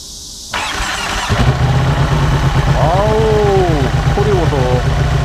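A Ducati Panigale 1199R motorcycle engine cranks with a brief starter whir, then catches and settles into a loud, steady idle, with a voice speaking briefly over it.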